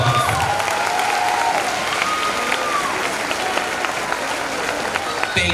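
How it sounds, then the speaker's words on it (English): Sustained applause from a large crowd at a high school graduation ceremony fills the room, dense and even, with a few faint cheers mixed in. "Give the leadership team a round of applause"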